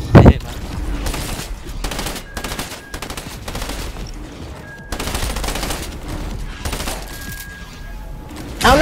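SMG fire in Fortnite: near, loud bursts of rapid automatic shots in several long stretches with brief gaps, a sharp blast at each end, and players talking faintly underneath.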